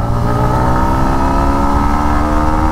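A Yamaha MT15 V2 motorcycle accelerating, its engine note rising steadily and loud at close range with a continuous buzzing drone and no talk.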